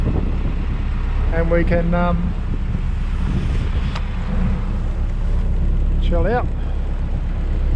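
Strong wind blowing outdoors by the water from a small boat, a loud, constant rushing roar buffeting the microphone throughout, with someone speaking briefly over it.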